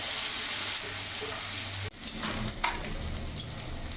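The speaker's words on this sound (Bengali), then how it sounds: "ভালো করে কিছুক্ষণ ভেজে নেব।" Ginger, dried red chillies, cashews and garlic frying with onion in oil in a pan, a steady close sizzle with stirring scrapes and a brief clink partway through.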